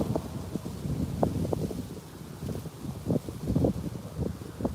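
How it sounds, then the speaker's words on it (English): Wind suddenly kicks up outdoors, gusting and buffeting the microphone in a steady rumbling rush with irregular surges, and no voices. "all of a sudden, it's just the wind just started kicking up."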